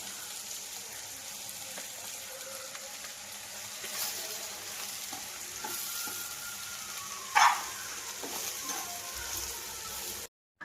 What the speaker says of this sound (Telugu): నాలుగు నిమిషాలు వేగిన తర్వాత ఈ విధంగా ఫ్రై అయిపోయింది చిక్కుడుకాయలు